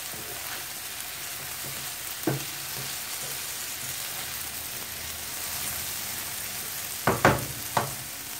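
Potatoes frying in a pan for a Spanish tortilla sizzle steadily, with a few close utensil clinks and stirring knocks breaking through, clustered near the end.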